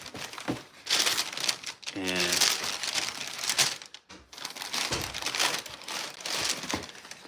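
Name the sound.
crinkling white tissue paper around sneakers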